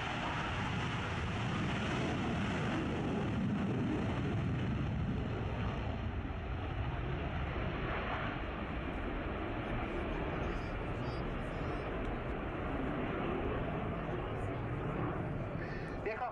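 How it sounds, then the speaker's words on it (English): Belgian Air Component F-16AM Fighting Falcon fighter jet at an air show flying display, a steady broadband roar of jet engine noise with wind buffeting, continuous and fairly distant throughout. "the F-16AM Fighting Falcon"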